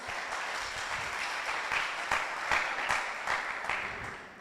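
An audience at a live event claps in sustained applause, with sharp individual claps popping out of a steady dense wash that swells slightly toward the middle and fades at the end.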